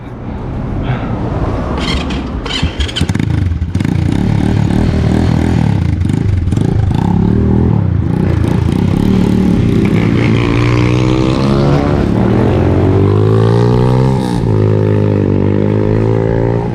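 Small 50cc mini dirt bike engine running close by, a loud continuous buzzing drone that rises and falls in pitch as the throttle changes, with a few clatters near the start.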